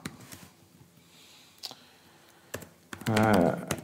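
Someone types a number on a computer keyboard while running a simple Python program. There are a few scattered key clicks, then a short, louder burst of rapid typing near the end, with faint background sound under it.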